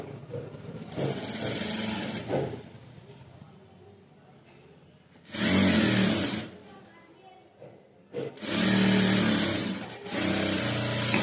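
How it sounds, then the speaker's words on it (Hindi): Sewing machine stitching a princess-cut blouse runs in three bursts, a short whirring run near the start, then two louder, longer runs later, with quiet gaps and soft talk between. "अब हम इसको यहाँ से सिलाई लगा देंगे।"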